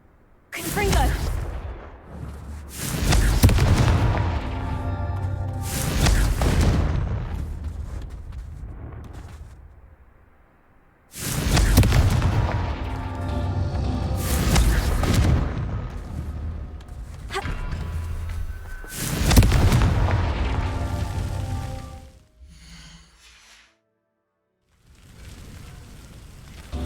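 Confringo fire spells in Hogwarts Legacy set off a series of heavy, booming blasts, each a loud, roaring burst that decays slowly, spaced a few seconds apart with brief lulls between them.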